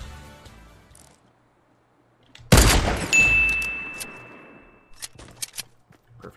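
A single loud, sharp gunshot in Fortnite that leaves a long fading tail and a high ringing ding. A stretch of near silence comes before it and a few quieter clicks and taps follow.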